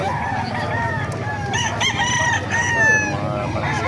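A rooster crows clearly over a background of other fowl clucking and farmyard noise, with no one speaking.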